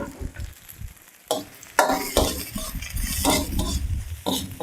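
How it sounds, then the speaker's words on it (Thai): Garlic and dried chili are stir-fried in a pan for a dry, spicy Thai beef basil dish, with a close sizzle broken up by repeated scrapes and clanks of a spatula against the pan. "เอาเจียวให้หอมครับ"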